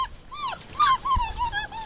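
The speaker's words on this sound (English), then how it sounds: "now they see me, so of course they're going to whine for me." Puppies outdoors whine and whimper in a quick run of high, wavering cries, close and fairly loud, with no talking.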